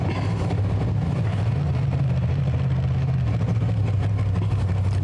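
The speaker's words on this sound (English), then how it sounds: "Brian Chin backing up the hot rod there on the left-hand side of the racetrack." Hot rod drag car backing up on a drag racetrack, its engine giving a steady loud low rumble throughout.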